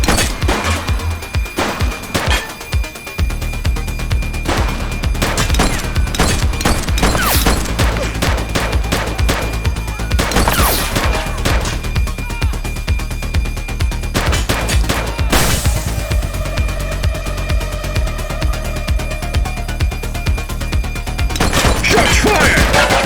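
Gunfire in the police video game The Precinct, a loud rapid series of close gunshots with crashes and booms mixed in, keeps up almost without pause through a long chaotic firefight.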